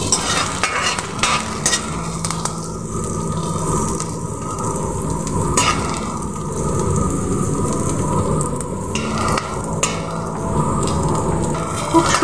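A halved whole dried red chilli frying in hot oil for masoor dal bharta, a continuous crackling sizzle with a spoon stirring and scraping the pan at intervals.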